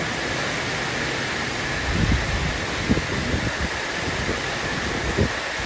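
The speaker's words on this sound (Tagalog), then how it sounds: "Grabe, lakas ang ulan talaga." Continuous dense roar of heavy typhoon rain and gusting wind in Cainta, Philippines, loud and unbroken, with occasional low thumps and no voices.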